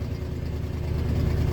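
A 2000 Ford F150 engine idling roughly, a low uneven chugging rumble with a faint pulsing unsteadiness, heard close for a brief moment.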